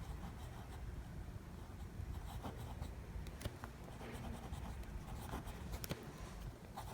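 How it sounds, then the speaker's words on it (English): A Jinhao 991 fountain pen writing on paper, its nib giving a faint, dry scratchy feedback in short irregular strokes against a quiet background. "it's actually writing quite smoothly now"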